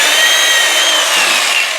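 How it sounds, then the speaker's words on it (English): A power sander works over the end grain of a turned wooden bowl, a steady, close hissing whir with a continuous broadband rasp that holds even throughout. "I power sand just enough to get the tear out and the tool marks out."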